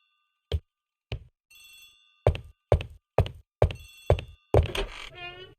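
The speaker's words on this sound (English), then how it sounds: "The telephone in the hall is ringing." An old telephone rings in a house hall, heard as a series of short, sharp metallic bursts with brief gaps in an irregular rhythm, fairly close and with no talk.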